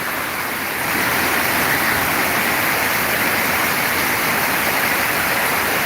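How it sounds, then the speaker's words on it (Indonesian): Heavy rain pours down in Palembang, a dense, loud, unbroken hiss that swells slightly after the first second and then holds steady, with no voices. "Hujan deras di kota Palembang."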